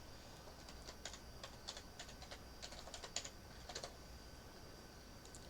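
Steady typing on a computer keyboard, quick irregular key clicks running throughout at moderate, close level over a faint background hum.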